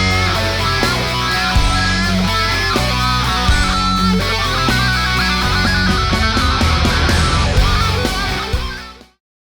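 A heavily distorted electric guitar plays the opening stretch of a solo, a dense, loud run of notes over low chugging tones for about nine seconds before it cuts off abruptly.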